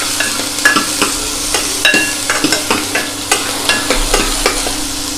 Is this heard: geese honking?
no